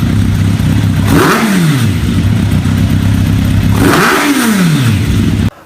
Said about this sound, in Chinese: 给大家放一下这台发动机声浪。